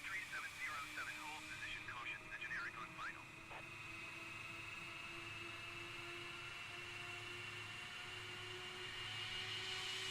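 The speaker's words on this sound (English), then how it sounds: "Oh, yep, there goes the other engine." A Boeing 787-10 Dreamliner engine spooling up in a flight simulator game, a steady droning hum with rising tones that builds gradually, briefly overlapped by a voice near the start.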